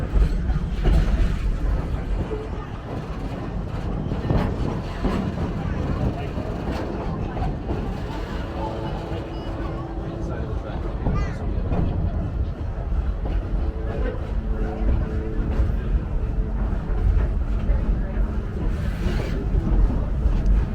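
A Serengeti Express train rolls through Busch Gardens Tampa at a steady rumble with faint rail clatter, while a narrator talks over it for most of the ride.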